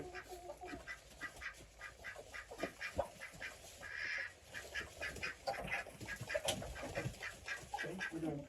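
Ducks and a goose quacking and honking in rapid repeated bursts as they are let out of a backyard homestead pen, fairly close and lively, with no talk.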